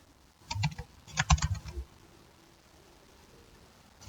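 Computer keyboard typed in two quick bursts while entering C++ code, crisp close clicks for about a second and a half, then quiet room tone with no talk.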